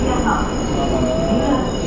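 Passenger train running from Valencia to Sagunto in Spain, heard from inside as a steady loud rumble with faint squealing wheel tones, continuous and close.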